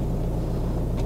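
Camper van engine running with an exhaust problem, a steady low rumbling drone that stays close and constant, with no talk over it.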